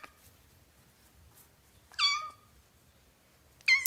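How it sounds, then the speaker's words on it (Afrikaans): A kitten on a farm gives two short, clear meows, one midway and one at the end, separated by near silence, close and fairly loud. "Op die plaas is daar 'n katjie is 'n kitten."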